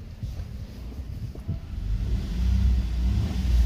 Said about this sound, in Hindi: अल्हम्दुलिल्लाह गाड़ी स्टार्ट है, बिल्कुल ओके है, ओके कंडीशन में